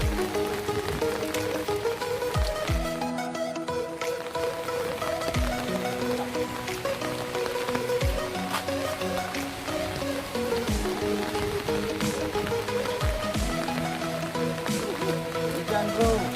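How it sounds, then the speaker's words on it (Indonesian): Steady rain pattering on surfaces outdoors, with scattered nearer drips and taps, heard while a big hexacopter hovers in the rain, a musical tone running underneath throughout. "Hujan, bro."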